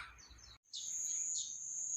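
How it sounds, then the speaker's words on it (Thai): Birds chirp and sing in short bright bursts over a quiet outdoor setting at a Japanese cemetery with pagodas, the calls fairly clear and continuous after a brief pause. "มีเสียงนกร้อง"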